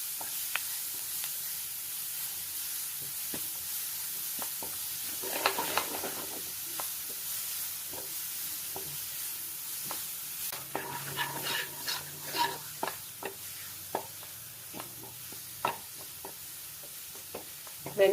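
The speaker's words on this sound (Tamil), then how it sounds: "அரைச்சி வச்ச மசாலா வந்து எண்ணெயிலே கொஞ்சம் ஃப்ரை ஆகட்டும்" Ground masala paste with curry leaves and onion fries in oil for village-style chicken roast, a quiet hiss punctuated by repeated spoon scrapes and clinks against the pan that grow busier later on.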